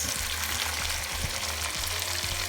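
Chopped celery, sweet peppers and spring onion sizzle in a frying pan for a jambalaya, a steady close crackling fry with light stirring scrapes and no talking.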